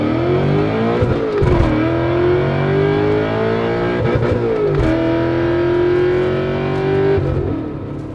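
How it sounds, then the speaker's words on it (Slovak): A supercharged BMW M5 E39 accelerates hard during an acceleration test. The engine roars loudly and climbs in pitch through several gears, with brief dips at each shift and no talk. "Tak a to sme si vyskúšali teraz malý akceleračný test."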